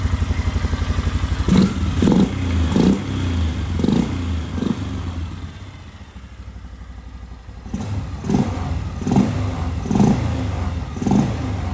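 A quad bike engine idles with a steady close chugging and then revs repeatedly in a series of sharp bursts, dropping back to idle between them and easing off briefly midway.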